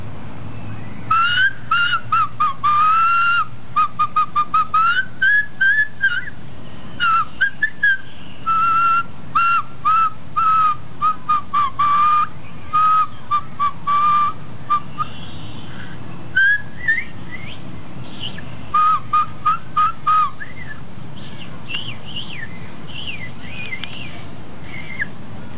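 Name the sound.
ancient stone whistle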